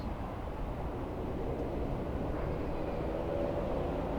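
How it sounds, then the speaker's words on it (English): A train rolls past near a park in Akihabara, Tokyo, producing a steady, continuous low rumble and rail noise at moderate distance for several seconds, with no talking. "That is a train."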